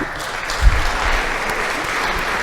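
An audience breaks into steady applause at a Saugus Board of Selectmen meeting, the clapping sustained and fairly loud throughout with a brief thump near the start.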